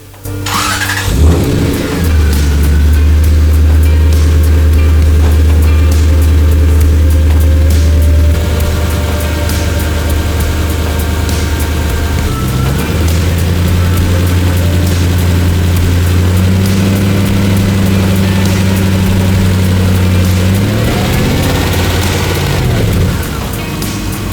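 A 1990 Toyota Celsior engine idles steadily with the heater on, a low, constant hum, close and loud, the tone shifting slightly a few times; no talking.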